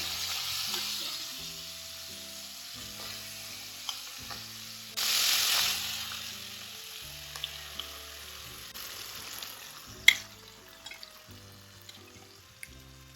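Marinated potatoes for Hyderabadi dum aloo fry and get stirred in a pan, giving a continuous sizzle with scraping stirs and one brief louder hiss. Background music plays throughout.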